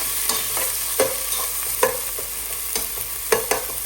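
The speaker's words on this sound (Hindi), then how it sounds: "साथ ही हम डाल देंगे आधी कटी हुई प्याज जो हमने ली है। हल्का सा सौते करेंगे।" Ginger, garlic and half of a chopped onion are sautéed in a pan for potato samosa filling, a constant sizzle broken by repeated clacking stirs of the spoon at a loose, uneven rhythm.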